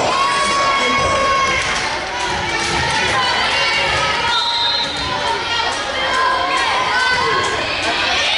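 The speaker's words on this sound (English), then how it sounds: "cheering. It's in the crowd." At a high school varsity volleyball match, a gym crowd cheers and shouts loudly and continuously, with ball thuds and squeaking shoes mixed in.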